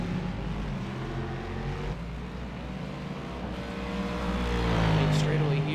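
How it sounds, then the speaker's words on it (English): GT3 race cars at Mid-Ohio during an American Sports Car Series round, a loud continuous engine roar with rising pitch as they close in, under broadcast commentary. "you can almost hear the GT3 cars as they're starting to gain upon him right now"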